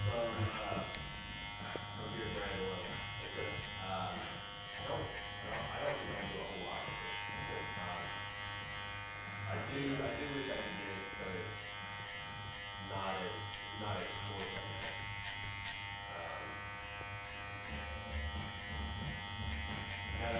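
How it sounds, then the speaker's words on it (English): Electric hair clippers cutting clipper-over-comb to blend the sides and back of a young man's 90s curtain hairstyle, a steady close buzz running through the whole stretch while a person talks over it. "I'll blend it with clip over comb"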